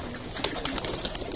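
A colored racing pigeon arriving at a loft after a 50 km race flight coos softly within steady broadband noise, with a few brief sharp clicks.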